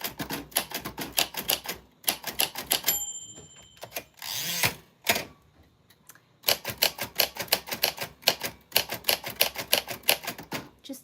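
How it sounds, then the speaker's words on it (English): Typewriter keys clatter in quick bursts of sharp strikes, separated by short pauses and a brief mechanical carriage or bell-like noise midway, all close and fairly quiet. "just typing some of the stuff I said to you so that you can hear what it sounds like from me and then from the typewriter"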